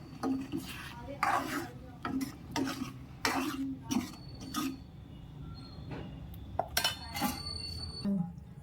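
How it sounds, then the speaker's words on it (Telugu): A spoon stirs fresh cream into palak paneer in a pot, with rhythmic soft scrapes and occasional clinks against the metal, fairly close and quiet. "చివరిగా ఫ్రెష్ క్రీమ్ వేసుకుందాం ఒకసారి కలుపుకుందాం"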